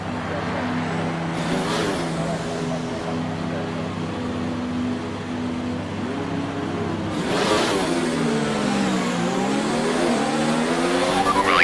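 A Formula 1 race car in the F1 2019 video game revs through its gears on a warm-up lap, a loud continuous engine whine that rises and falls, surging again near the end.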